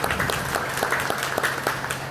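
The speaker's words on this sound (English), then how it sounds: "Let's give her a round of applause" An audience gives a round of applause for a principal at an elementary school ribbon cutting, steady clapping from many people, moderately loud and even, with no voices over it.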